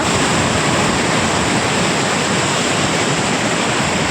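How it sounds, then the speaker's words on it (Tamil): At the Chitraru dam waterfall in Tenkasi, a strong current of rushing water roars loud and unbroken, a dense, close wash of noise with no pauses. "சரியான இழுவை தண்ணி போய்கிட்டு இருக்கு"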